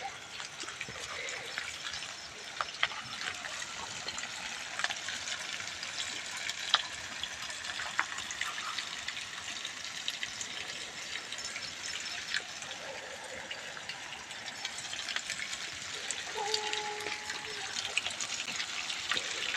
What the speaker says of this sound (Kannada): ನಮ್ಮನೆಯವರು ಬಾಳೆಗೆ ನೀರು ಬಿಡ್ತಾ ಇದ್ದಾರೆ.